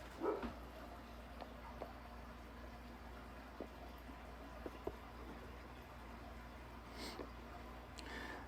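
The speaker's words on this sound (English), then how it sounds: "She's barking at somebody." A pet dog barking from another room, faint, sparse single yips scattered over a quiet background hiss.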